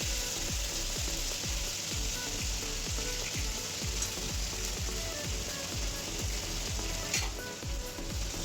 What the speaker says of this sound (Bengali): মাংসের জন্য কাটা পেঁয়াজগুলোকে এবার ভেজে দিলাম।